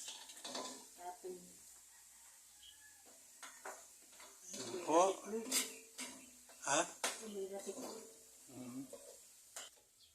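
Cooked coconut latik is stirred and scooped from a pan in a series of soft scraping and clinking strokes with faint sizzling, quiet and close, while people talk at intervals.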